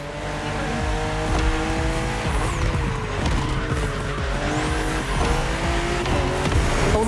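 BMW M2 and M4 cars race on a narrow, twisting road in the video game The Crew Motorfest, with loud, constant engine roar, shifting revs and squealing tires through the bends.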